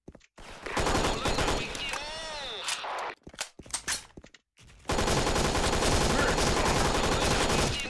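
Rapid automatic gunfire from a UMP-45 submachine gun in a shooting video game, dense bursts with a short lull in the middle before sustained firing resumes loudly to the end.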